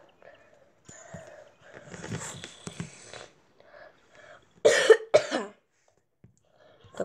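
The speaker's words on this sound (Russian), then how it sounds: "простите, кашляю немного" Two or three harsh coughs close to the microphone, loud and abrupt against a quiet room, preceded and followed by low muffled noises.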